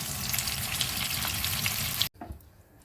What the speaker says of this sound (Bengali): চলো এইভাবে প্রত্যেকটা সবজি ভেজে নিয়ে আবার তোমাদের কাছে আসছি